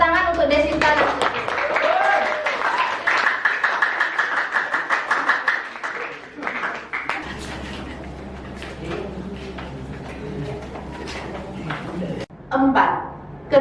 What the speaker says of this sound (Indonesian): Tepuk tangan untuk Desinta dan Susile.